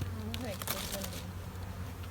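Honeybees hum inside an opened hive on a day when the field bees are home, a steady low buzz with a faint voice briefly audible over it.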